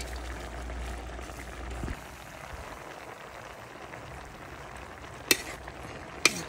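Mushrooms and vegetables frying in a pan are stirred, giving a steady low sizzle with scraping and a couple of sharp utensil clinks toward the end.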